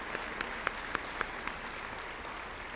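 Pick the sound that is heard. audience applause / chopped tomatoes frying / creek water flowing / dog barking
audience applause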